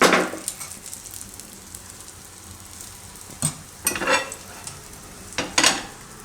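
Bread toast frying in ghee on a pan, a soft steady sizzle with a few brighter crackling bursts as it is stirred or turned, close up and alone.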